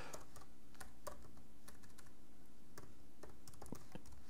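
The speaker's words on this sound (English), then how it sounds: "Oh, let's get the typing right here." Typing on a computer keyboard produces irregular, fast clicks in short bursts over a low background hum, recorded close up with no speech.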